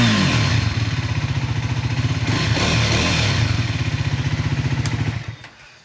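A Triumph Scrambler 400X motorcycle with a Yoshimura exhaust idles with a rapid, pulsing exhaust chug close by, steady for several seconds before easing off.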